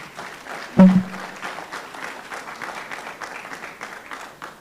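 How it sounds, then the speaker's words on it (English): An audience at a cybersecurity tech hackathon claps steadily for a team, with dense, evenly sustained applause in a room and a single louder thump near the start. "Let's clap hands for them."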